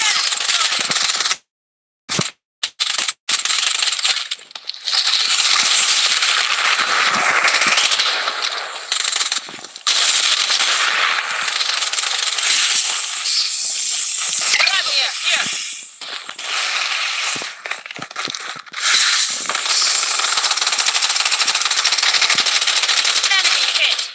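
Video game gunfire: dense, rapid bursts of automatic weapon fire crackling loudly and almost continuously, with brief gaps and game voice callouts mixed in.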